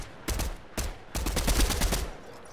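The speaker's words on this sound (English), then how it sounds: "People shooting." Fortnite weapons fire in several loud, close bursts: two quick single cracks, then a longer rapid string of automatic shots that fades out, with no talking.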